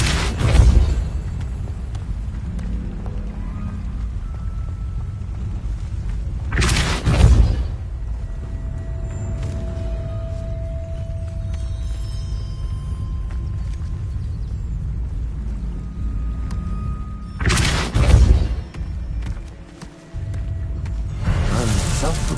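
Spell effects from Levioso and Depulso in Hogwarts Legacy: three loud bursting whooshes with deep booms, widely spaced over a low ambient bed and a steady tone, and a voice speaks.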